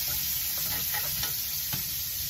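A browned chuck roast sautéing in a pan for gravy gives a steady, close sizzle and frying hiss throughout, with a few soft stirring scrapes over it and no voices.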